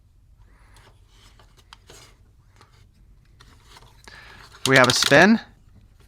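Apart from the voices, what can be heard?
ratchet joint clicking on Transformers Dinobot Snarl toy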